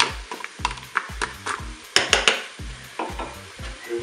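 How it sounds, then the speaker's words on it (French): Fish and soup ingredients are stirred in a Cookeo electric pressure cooker pot on its browning setting, with a dozen or so close scraping strokes over a soft sizzle and no talking. "Je mélange."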